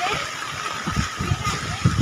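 Heavy rain pours down in a village, a steady broadband hiss with splashing patters, while a person talks over it.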